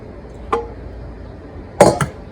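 Braised pig's feet being set onto a plate, giving a single ceramic clink followed a moment later by a quick pair of knocks and clatters, close and fairly crisp against a quiet kitchen background.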